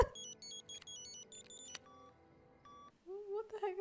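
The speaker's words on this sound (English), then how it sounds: "What the heck is this small little phone?" Small telephone dialing beeps from a tiny phone in the Zoolander film, a quick run of bright tonal bleeps over a music and sound bed, then a separate tonal voice-like passage near the end.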